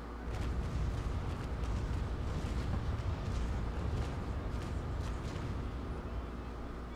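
A cannon broadside from a sailing warship in the Naval Action game, a rolling rumble of distant booms striking sails, low and sustained rather than sharp.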